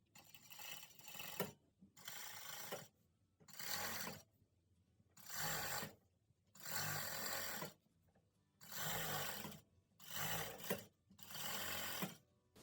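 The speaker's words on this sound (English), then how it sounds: "I'll be serging this edge." A serger overlocks the rib edge of a hoodie in eight bursts of steady mechanical whirring, each a second or so long, separated by brief quiet gaps, close and clear with no talk.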